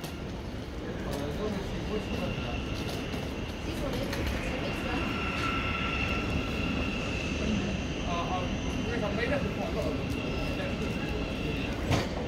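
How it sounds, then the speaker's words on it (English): A Thameslink Class 700 electric train pulls into a platform at Peterborough station, a steady rolling rumble with a faint electric whine that holds at a moderate distance throughout. "Now pulling into platform number one is a Thameslink 700"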